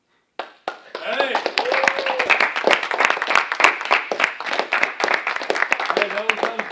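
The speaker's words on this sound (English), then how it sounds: "Let's give him another round of applause" A live audience breaks into applause during an evening comedy show, clapping swelling quickly and holding dense and loud for several seconds, with scattered voices and cheers mixed in.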